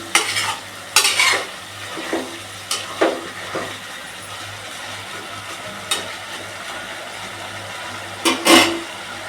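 Vegetables including beetroot sauté in a pan for veg biryani, with a steady low sizzle broken by several sharp clattering bursts of stirring.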